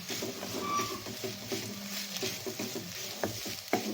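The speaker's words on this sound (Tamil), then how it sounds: "நல்லா கிளறிட்டு நம்ம சாதத்தை கலந்துக்கலாம்" A spoon stirs salted cooked rice in a pan, giving soft scraping and sizzling patter with a few sharper clinks of utensil against metal, close and fairly quiet.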